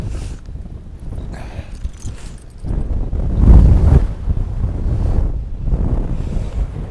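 Strong gusts of wind on an exposed Northumberland hilltop buffet the microphone in rough, rumbling surges that swell and ebb, loudest midway through.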